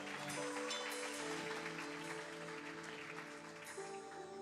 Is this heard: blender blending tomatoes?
no